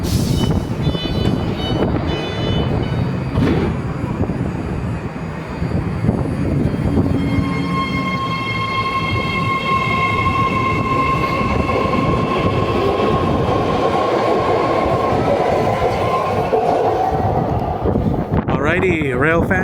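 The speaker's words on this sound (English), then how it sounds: "Featured in this video was a southbound Berryessa bound train of the San Francisco Bay Area Rapid Transit and a Richmond bound train as well." A BART rapid transit train rolls through Oakland Coliseum station with a loud, steady roar of wheels and motors and a rising electric whine, filling the platform throughout before fading at the end.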